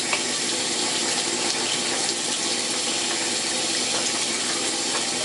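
Water pours steadily from a tap for rinsing while a toilet is cleaned, a loud, continuous hiss and splash that fills the whole stretch with no talk.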